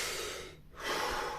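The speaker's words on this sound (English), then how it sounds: "the Wim Hof breathing, which is it's like full exhales, full inhales, full exhales." Fast, full Wim Hof style breathing: a strong breath, a brief pause, then another deep forceful breath, close and audible with no talking.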